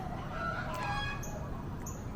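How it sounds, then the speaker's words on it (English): Chickens in a residential area on Oahu, Hawaii cluck and call, one drawn-out fowl cry followed by a few short, sharper chirps, fairly close over steady outdoor background noise, with no speech. "Now we have chickens."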